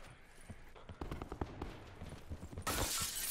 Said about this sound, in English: there's shots from the right